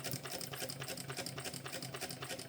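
Sewing machine stitching a pocket onto a mini backpack, a fast steady rhythmic whir and needle clatter running continuously, close but fairly quiet.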